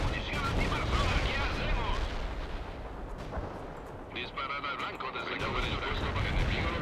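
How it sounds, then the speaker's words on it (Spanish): Artillery fire in the snowy battlefields of the World in Conflict: Soviet Assault video game, dense rumbling booms and blasts rolling continuously at high volume, with a brighter crackling burst partway through. "qué linda la artillería con la nieve"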